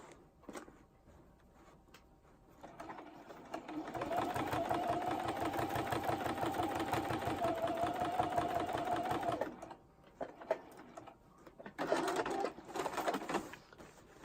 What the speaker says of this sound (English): I think I'm going to quilt every individual segment.